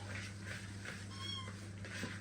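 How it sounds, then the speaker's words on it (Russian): A yard cat meows indoors near a kitchen where chicken broth is being cooked. Several soft, drawn-out mews come at intervals over a low steady hum, faint and fairly close, with no talk. "Это мне тут кошка, что во дворе."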